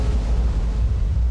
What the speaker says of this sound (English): Suddenly, the ground was rocked by a huge explosion.